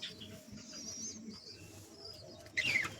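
Young pigeons in a loft make soft, faint cooing and chirping sounds over low background noise, with a brief louder flutter or call near the end.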